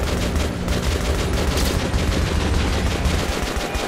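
Rapid automatic gunfire in Metro Last Light Redux, a loud, continuous stream of closely spaced shots with dense bursts throughout and no pauses.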